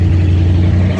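Chevy 350 V8 inboard engine on a 1999 Mariah boat with through-hole exhaust, a loud steady low rumble with a revving, throaty tone held close up for the whole second.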